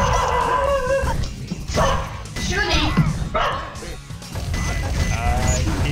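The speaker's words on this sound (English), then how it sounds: "I hear loud dog!" A dog barks loudly and repeatedly at close range, sharp bursts spaced through the stretch, with a person talking over and between them.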